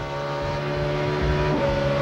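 In-car sound of a 2004 NASCAR Craftsman Series race truck engine at Missouri-Illinois, loud steady drone with a brief dip and pitch step as the driver grabs a gear partway through.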